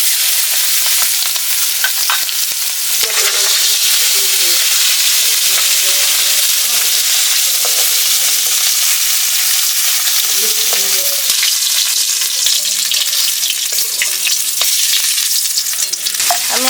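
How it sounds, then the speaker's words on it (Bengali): Small fish rubbed with turmeric and salt frying in mustard oil in a wok, giving a steady loud sizzle with crackling bursts, continuous and close, without talk. "কড়াইতে মাছটা দিয়ে দিচ্ছি"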